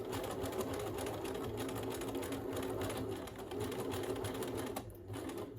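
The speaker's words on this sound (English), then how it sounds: "And again, back stitching through the elastic." A sewing machine back stitching through elastic while sewing a fabric face mask, a continuous close, rapid mechanical whirr with a brief dip near the end, quiet overall and without speech.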